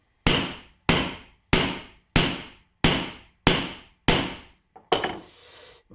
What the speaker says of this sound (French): le truc, en fait, c'est de l'écraser avec un marteau. It will make a little sound.